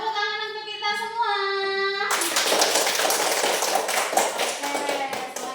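A classroom group breaks into brisk, dense applause after a few seconds of a sung or called-out tone, the clapping continuing loud and close to the end.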